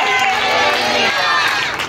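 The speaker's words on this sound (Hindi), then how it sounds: "तालियां जोर से" Congregation at a Punjab church ordination service applauding loudly amid cheering and worship music, a dense continuous crowd noise with voices mixed in throughout.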